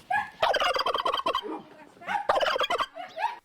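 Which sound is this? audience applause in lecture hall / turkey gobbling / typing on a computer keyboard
turkey gobbling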